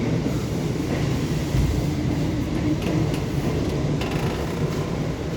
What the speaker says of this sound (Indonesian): langsung saja kita masuk ke dalam rangkaian kereta api Tegal Bahari